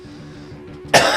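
A single short, sharp cough bursts out near the end of a quiet stretch, close and loud against faint background.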